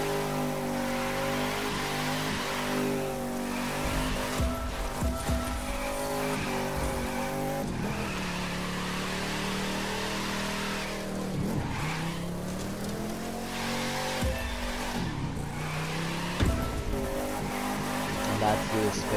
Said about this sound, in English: Holding the gas as it drifts on its own